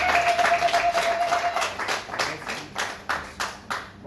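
Guests at a civil wedding ceremony applaud for the bride's father. Clapping rises under a brief steady electronic tone at the start, then thins into a few scattered, separate claps toward the end.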